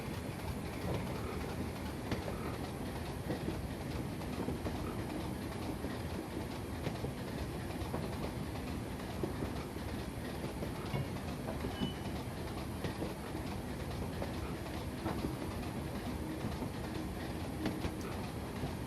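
Stanier 5MT steam locomotive in Train Simulator on the Weardale line, a steady rolling rumble with rail clatter and continuous engine noise throughout, fairly loud and with no talk.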